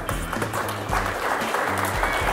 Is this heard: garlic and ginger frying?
no